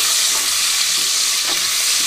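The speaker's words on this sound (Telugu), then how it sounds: "ఇక్కడైతే తాలింపు వేగిన తర్వాత ఉల్లిపాయలు అలాగే పచ్చిమిరపకాయలు వేసేసుకున్నాను" Sliced onions and green chillies fry in hot oil over a seasoning of spices, a steady, close, loud sizzle running without pause, with faint stirring scrapes.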